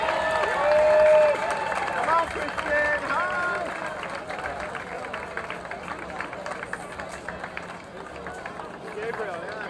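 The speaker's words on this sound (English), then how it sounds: "Big round of applause for our young children representing LFB." Audience applause and cheering at a food festival, a crowd clapping loudly at first and then settling into a steady patter, with voices and babble mixed in.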